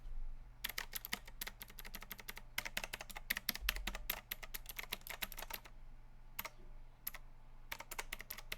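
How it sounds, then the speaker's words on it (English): Typing on a mechanical keyboard, a close run of crisp, rapid key clicks in bursts with short pauses, thinning to a few scattered presses near the end, heard alone against a quiet low hum. "People who like mechanical keyboards, get ready."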